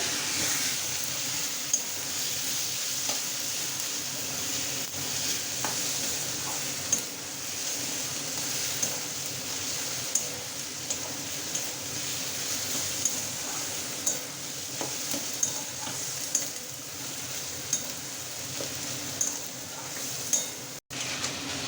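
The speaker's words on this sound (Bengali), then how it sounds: "হলুদ গুঁড়ো দেবো, স্বাদ মতন লবণ দেবো, দিয়ে ভালো করে নেড়ে চেড়ে" Dried fish (shutki) frying with turmeric and salt makes a quiet steady sizzle, while a utensil scrapes and taps against the pan with scattered light clicks.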